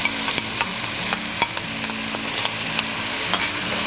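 Shrimp and chili paste sizzle and fry in a pan for Korean sundubu jjigae, with steady crackling and repeated scraping stirs of a utensil, close and fairly loud, no talking.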